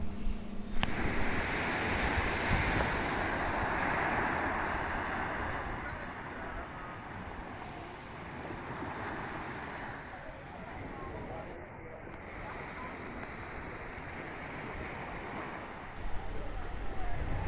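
Ocean waves wash onto a beach on Bequia in Saint Vincent and the Grenadines, a steady, broad roar of surf mixed with wind noise that continues throughout without any talking.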